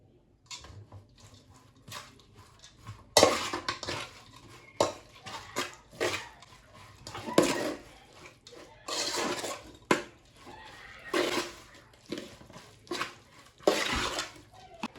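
Abacha, African salad, being stirred in a bowl: repeated scraping and clinking of a spoon against the dish in irregular bursts, close and clear, with no talking.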